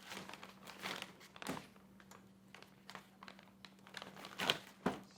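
Packaging crinkles and rustles during the unboxing of a Novastar H Series unit, with soft scattered crackles and a few sharper taps and thunks, faint and close under a low steady hum.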